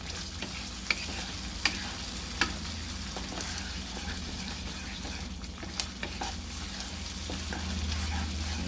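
Mutter paneer gravy sizzling steadily in a pan while a spoon stirs it, with a few sharp clicks of the utensil against the pan over a continuous fry, no talking.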